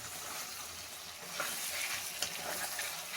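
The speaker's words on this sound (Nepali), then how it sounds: "यसरी अदुवा लसुन हाल्यो, त्यहाँबाट यसरी हिलाउने।" Cumin powder, ginger and garlic stirred and frying in a hot pan for pork, a steady bright sizzle with scraping stirs growing slightly louder midway, no talk.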